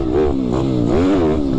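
A YCF Bigy pit bike, ridden in third gear, revs up and down in close, loud sweeps, its engine note rising and falling twice with no talking over it.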